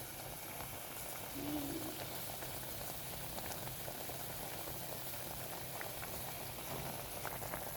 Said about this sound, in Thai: พอเดือดแบบนี้ก็ใช้ได้เลยค่ะ